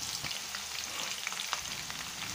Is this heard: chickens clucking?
no